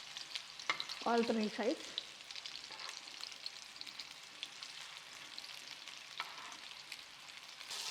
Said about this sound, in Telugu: వీటిని సియర్ చేయడానికి కొద్దిగా అలా టర్న్ చేసుకుంటూ సియర్ చేసుకుంటూ సరిపోతుంది